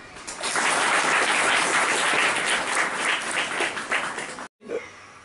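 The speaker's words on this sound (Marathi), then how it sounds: "पुनश्च एकदा आपण सर्वांनी त्यांचं टाळ्या वाजून कौतुक करायचं आहे" An audience at a memorial event in a hostel applauds, producing dense, loud, sustained clapping that fades and cuts off after several seconds.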